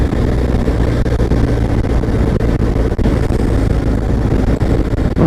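Adventure motorcycle engine, one of a 2022 BMW, Harley or Yamaha, running hard near 9,000 RPM at speed, a loud steady roar with heavy wind rush across the microphone throughout, no voices.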